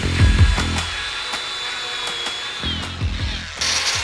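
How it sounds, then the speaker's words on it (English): A flap disc grinder touching up welds on a Teraflex front track bar for a Jeep TJ, a steady whining spin with a few brief bumps and contacts against the metal, fairly close. "we both got flap discs. And what he's doing, he's touching up a couple of the welds"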